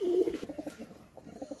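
Pigeons coo right after a pair of imported-bloodline high-flying birds is released, the soft repeated coos sounding close and fairly loud, then fading and continuing in short uneven pulses.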